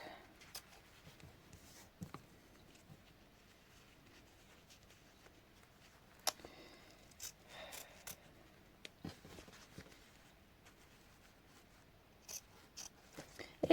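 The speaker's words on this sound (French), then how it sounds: "Je prends mes autres ciseaux, ça ira plus vite." Scissors snip through double-sided tape in quiet, scattered cuts and rustles, each faint and close, with small clicks of the blades and no talking.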